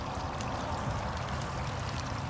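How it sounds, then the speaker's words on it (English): Water trickling and pouring out of a small leaf-filled backyard creek over rocks, a steady, continuous rushing wash heard close with no talk. "You can see the water emptying there."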